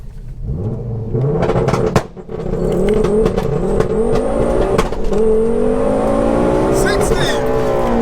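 A big-turbo, 530bhp Ford Focus ST converted to four-wheel drive launches hard, its engine roaring loud and close as the revs climb and drop through several quick gear changes.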